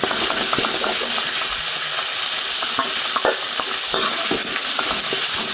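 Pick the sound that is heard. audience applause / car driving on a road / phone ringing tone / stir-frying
stir-frying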